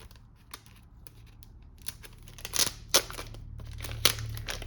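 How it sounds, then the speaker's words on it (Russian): Thick, dense drawing sheets are handled while unpacking art supplies, giving several dry crinkling and scraping rustles, with sharper crisp rustles near the middle and toward the end, close and fairly quiet with no talk. "Вот такая бумага здесь у нас."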